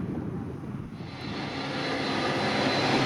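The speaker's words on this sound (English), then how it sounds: "the awe-inspiring takeoff of the TAP Airbus A321" A TAP Airbus A321 jet airliner takes off, its engines producing a steady, broad roar that grows gradually louder and fuller, with no talking over it.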